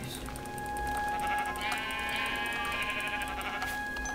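A sheep bleats in a modded video game, a short wavering cry heard fairly faintly over steady background music and ambient noise, no talk.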